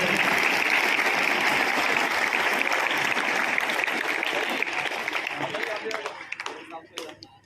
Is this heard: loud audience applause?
yes